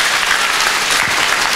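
A packed audience at an album launch concert in Salistea de Sus bursts into loud, stormy applause, a thick continuous wash of clapping up close with no gaps.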